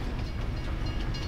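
Train ride in the video game Farming Simulator 22, a continuous rumbling roll of rail wheels and carriage noise, steady and full throughout with no talk over it.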